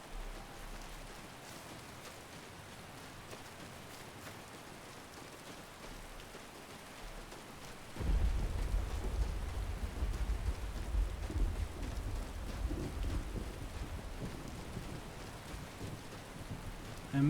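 Steady rain hisses in a Skyrim game world, then a deep rumble of thunder rolls in about midway and the downpour continues heavier and louder, with no voices.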